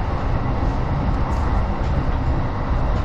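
A Chuo Line rapid train between Shinjuku and Takao rumbles along the rails, heard as a steady, loud, broadband roar from inside the car.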